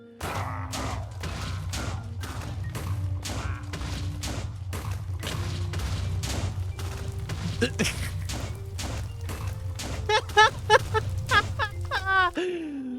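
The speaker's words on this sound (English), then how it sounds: "non-destructive, non-scaling fiery explosions with the power of TNT" Fiery TNT-strength explosions from an origin ability in Minecraft come as a rapid series of sharp booms and crackles over a steady low rumble, ending in a burst of higher crackling.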